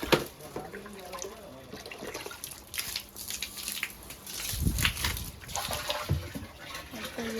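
Water running from a tap into a tank through a pipe, a continuous splashing flow with a few drips and low gurgles, fairly quiet.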